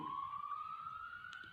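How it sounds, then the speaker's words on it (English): A police siren wails outside, a steady rising tone that sounds fairly distant and continuous with no talk over it. "we have the police sirens actually going outside as I'm making this video"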